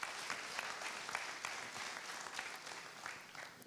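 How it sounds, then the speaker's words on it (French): An audience in a congress hall claps together in dense, steady applause, faint and fairly distant, with no voices over it. "Merci de vous applaudir."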